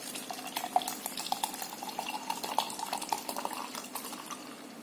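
Liquid poured into a sterilized container while mixing homemade hand sanitizer, a steady faint trickle with light clinks of the vessel, close and quiet with no talking.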